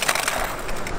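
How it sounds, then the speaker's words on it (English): A toy Disney Cars Fireball Beach Racers car crashes on a muddy racetrack, giving a brief, loud burst of crunching, scraping noise that fills the moment without voices. "Oh, Mater crashed."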